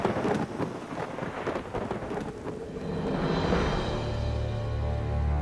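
Heavy thunder crackles and rumbles through a storm with rain falling steadily, the sharp crashing giving way to a deeper, sustained roll.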